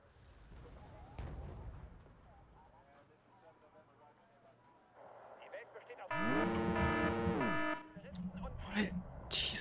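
Units firing in the Wargame: Red Dragon strategy game, with scattered distant booms and rumbling early, then a loud harsh burst of layered weapon fire with sweeping tonal whine for about two seconds, while a player talks throughout.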